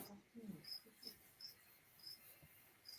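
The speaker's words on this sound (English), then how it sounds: "she can hear crickets. That'll be mine, most probably." Crickets in the background of an outdoor live stream, a faint steady high chirping pulsing in short repeated bursts, with low indistinct voices and rustling underneath.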